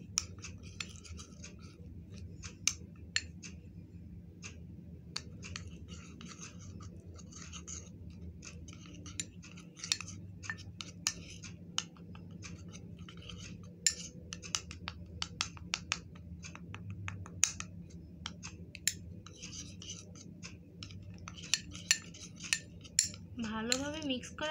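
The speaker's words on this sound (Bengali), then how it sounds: "তিনটি উপাদান একসাথে এখন আমি ভালোভাবে মিক্স করে নেব।" Spoon clinking steadily against a bowl while tomato face pack ingredients are stirred with rose water, quiet repeated light taps and scrapes at close range with no talking.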